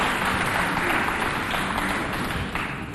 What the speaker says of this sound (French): il faut applaudir pour encourager ça.